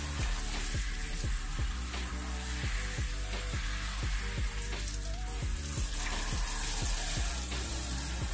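Water from a tap runs steadily while natural curly hair is rinsed, a constant close hiss with regular low thumps and knocks repeating through it, and no talk.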